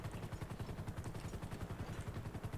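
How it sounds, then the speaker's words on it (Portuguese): A police helicopter in the video game GTA 5 thrums with a rapid, steady rotor beat close by, its low pulsing chop filling the whole stretch without any voices. "O helicóptero Águia já tá aí"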